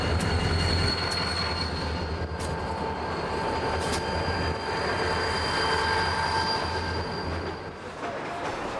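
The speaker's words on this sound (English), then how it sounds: "we can get a top view of the train as it passes under the bridge" A train passes beneath a road bridge on a Pan Am Railroads line in summer, its steady rumble and wheel squeal running continuously and fairly loud, with faint high-pitched screeches, occasional clicks and no talk.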